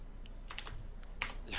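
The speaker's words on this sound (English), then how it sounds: "I'll let you type it since you're typing anyways." Computer keyboard typing in quick, uneven bursts of clicking keystrokes, close and fairly quiet, with no voices.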